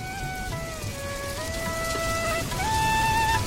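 Rain falls steadily in a cartoon about a rainy day and village family life, a constant soft hiss of drops running the whole time beneath gentle sustained melodic tones, with no voices.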